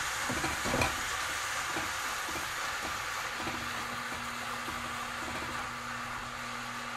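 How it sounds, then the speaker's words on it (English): Hamburger meat frying with softened onions in a pan for sloppy joes, a steady close sizzle and hiss that carries unbroken throughout, with faint stirring scrapes underneath. "Now we'll just get this hamburger kind of fried up."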